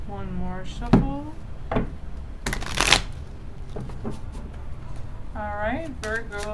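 Close-up hand shuffling of tarot cards, with a few sharp riffles and taps, the loudest burst near the middle, while a voice speaks briefly at the start and end.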